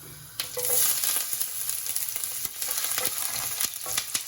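Ginger frying in coconut oil gives a steady sizzle with sharp crackles and a few stirring scrapes, close and fairly loud, no voices.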